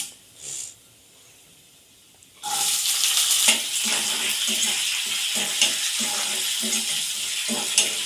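Chopped onions go into hot oil with lentils and set off a sudden loud sizzle that holds steady, with occasional stirring scrapes, after a quiet start.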